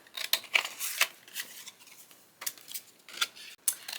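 Scissors cut a sheet of paper in half for a Christmas ornament craft, giving a run of crisp, close snips and rustles in short irregular bursts with quiet gaps between them.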